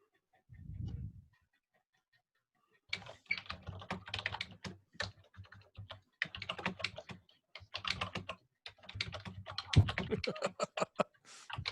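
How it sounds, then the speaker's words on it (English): Keys clack on a computer keyboard in irregular bursts of fast typing, close by, after a brief low thump at the start. "We can hear you typing, Doug."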